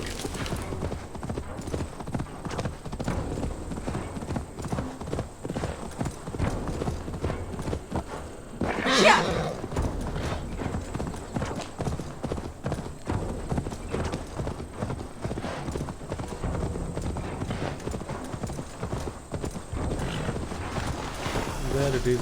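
Steady clip-clop of horse hooves from Assassin's Creed Valhalla, a continuous even trot at close range with a brief whinny partway through over ambient game sound.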